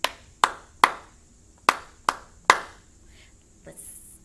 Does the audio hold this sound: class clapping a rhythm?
yes